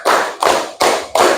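Schoolchildren clapping hands together in unison on a teacher's count, four loud, evenly spaced claps in quick rhythm with nothing else heard.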